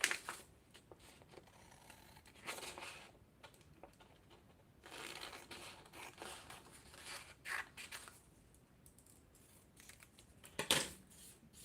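Scissors cut out a paper sewing pattern piece for a zip-up cardholder, giving quiet, intermittent snipping and rustling bursts with pauses between, close by and faint.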